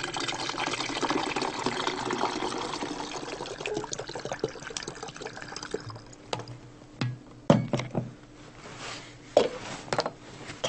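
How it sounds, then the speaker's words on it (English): Water poured through a funnel into a bottle, filling it almost to the top: a steady trickling stream up close that thins into broken splashes and gurgles near the end, with no talk. "fill the bottle almost to the top with water"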